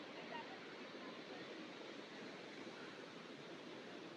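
A hidden waterfall deep in the jungle, a steady, dense roar of falling water that fills the scene evenly and without a break, close and moderately loud.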